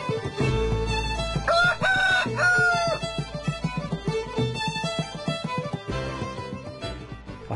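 An Extremaduran chicken rooster crows loudly nearby, several drawn-out calls in succession, with clucking and other fowl sounds around it.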